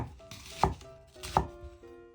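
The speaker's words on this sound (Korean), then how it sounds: "청양고추, 홍고추 어슷 썰어주세요." A kitchen knife slicing green and red chili peppers diagonally on a cutting board, two crisp close chops with softer cuts between, with no talking.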